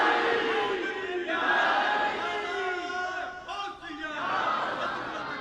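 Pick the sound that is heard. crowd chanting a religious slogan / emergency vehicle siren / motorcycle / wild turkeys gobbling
crowd chanting a religious slogan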